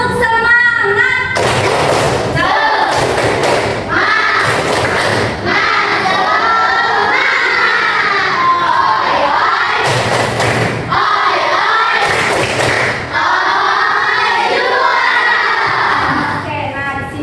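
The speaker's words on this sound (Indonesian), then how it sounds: "Ice breaking seperti biasa, yang tepuk semangat." Schoolchildren in a classroom perform a rhythmic spirit clap, loud bursts of unison clapping alternating with group chanting and shouts, repeated several times at close range.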